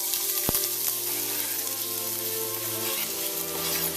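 A full bulb of garlic and a chunk of ginger sizzle loudly in a hot pan, a dense steady hiss with a single clack of a utensil near the start.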